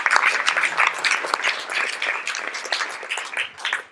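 Audience applause for Philippe at a French science talk event, a dense steady clatter of many hands clapping throughout, fairly close and loud.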